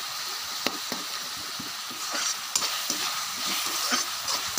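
Chana dal, urad dal, mustard seeds, cumin and chillies fry in hot oil as a tempering for a squash dish, giving a steady close crackling sizzle with sharp scattered pops throughout.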